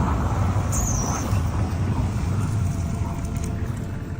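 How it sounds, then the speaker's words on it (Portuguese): A truck turning a street corner at night, its engine a steady close rumble with a brief high hiss near the start, continuous throughout with no voices. "o caminhão virou a esquina e apagou novamente os faróis"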